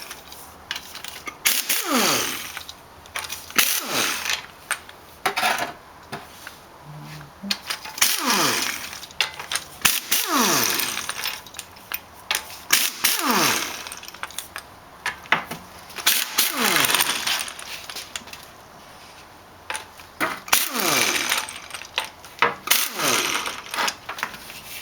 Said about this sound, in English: we are going to impact these bolts off